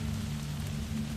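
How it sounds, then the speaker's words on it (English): Steady, faint hiss of rain in the video game Kena: Bridge of Spirits, a continuous wash of drops under a low ambient hum. "It's raining."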